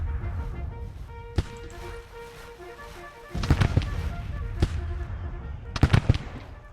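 Civil War troops firing musket volleys in the Grand Tactician strategy game at Wilson's Creek, sharp scattered cracks and clustered bursts of gunfire over a low rumbling battlefield background.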